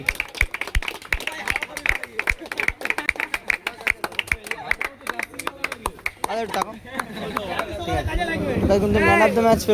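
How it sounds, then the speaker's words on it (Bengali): A crowd clapping at a prize-giving after a football match, rapid hand claps close by for several seconds before building into denser applause with voices talking over it. "সবাই জোরে হাততালি।"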